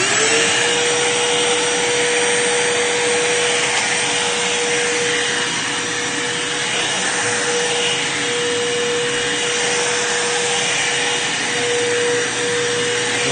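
A vacuum cleaner runs continuously and loudly up close, a steady motor roar with a constant whine, used to clean up spilled dirt left over from a wind tunnel test.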